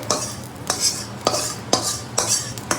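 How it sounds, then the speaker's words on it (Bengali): Onions fry in a pan in a home kitchen while a utensil scrapes and stirs them in regular strokes, each stroke a sharp clatter over a low, soft sizzle. "এখানে পেঁয়াজ ভাজা চলছে"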